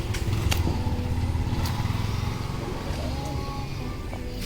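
A motorcycle engine drones steadily on a farm road in Masinloc, Zambales, holding a loud, close, even hum throughout.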